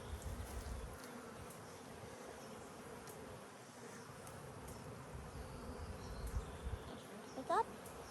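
Honeybees hum in a dense, continuous drone during a backyard hive inspection, faint and steady, with a brief rising tone near the end.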